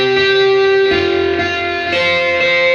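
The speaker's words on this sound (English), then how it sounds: "That's a delay pedal." Electric guitar played through a delay pedal, sustained notes and chords with repeating echoes trailing each strum, fairly loud and steady, no voices over it.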